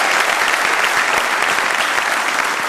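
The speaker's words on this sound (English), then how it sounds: "Big round of applause, please." Sustained, even applause fills a hall at a print industry summit, with a large audience clapping continuously throughout at a steady, fairly loud level.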